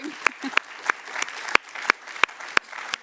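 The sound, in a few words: audience applause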